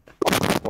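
Artillery fire from a 122mm howitzer in the game Gates of Hell: Ostfront, a single loud, close blast with a sharp onset and a short rumbling tail lasting under a second.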